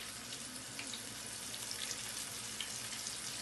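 Pieces of blue snapper fish fry steadily in a pan of hot oil, giving a continuous close hiss and crackle with scattered small pops throughout.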